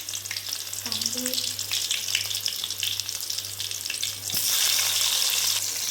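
Garlic hits hot oil in a pan with a loud, steady sizzle and crackle that swells abruptly near the end as more goes in.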